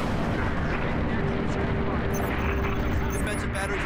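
Dense, continuous roar of heavy gunfire and missile blasts in the Halo: Reach video game space battle, loud and relentless for the whole stretch, with voices talking under the barrage.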